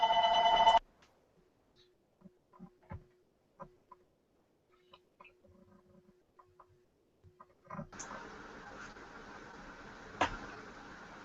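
Telephone ringing in the background of a home during an online women's circle call, loud bursts at the start and end with faint scattered clicks and quiet between.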